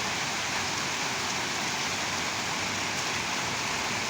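Steady morning rain falls continuously as a dense, even hiss, close and fairly loud, with no voices.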